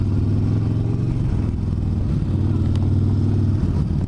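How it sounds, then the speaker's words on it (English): Big 900-plus cc V-twin engine of a Yamaha Star Bolt motorcycle while riding, a steady loud low rumbling drone with slight revving variation throughout, close up and continuous. "Big engine for this little bike."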